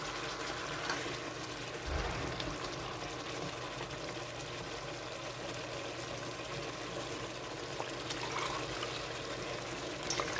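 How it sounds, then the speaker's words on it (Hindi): Water pours steadily into a pot of rice for chicken pulao, a soft continuous splashing trickle close by, with no talking. "3 कप चावल थे तो मैं इसमें 6 कप पानी शामिल करूँगी।"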